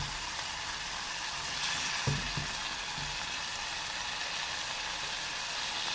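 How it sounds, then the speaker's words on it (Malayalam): Onions and a medium-size tomato sauté in a hot pan with a steady, soft sizzle, and a few faint stirring knocks come partway through. "നമ്മൾ അതിലേക്കൊരു മീഡിയം സൈസ് തക്കാളി ഇട്ട് കൊടുക്കണം കേട്ടോ."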